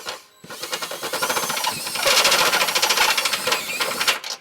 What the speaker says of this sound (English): we're going to use a step bit to just slightly enlarge it to allow our hardware to go through